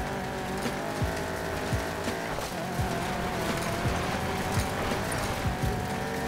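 A Mustang in the racing game Need for Speed Payback runs off-road, its engine droning steadily with repeated rising and falling revs, plus bumps and scrapes throughout.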